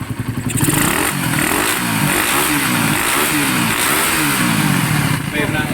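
A motorcycle engine revs repeatedly after an overhaul, rising and falling in pitch with a rough, loud exhaust note close by.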